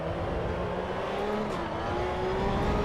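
Porsche Cup car engine on a hot lap in the racing game Assetto Corsa Evo, a loud sustained high-revving whine climbing steadily in pitch as the car accelerates, with no talking.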